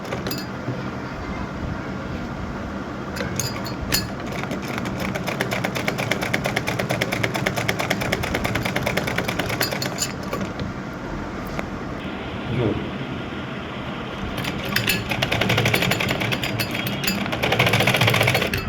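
A sewing machine stitching around the curve of a sherwani collar, a continuous close mechanical whir with rapid rhythmic needle clatter, briefly easing and then picking up speed again near the end.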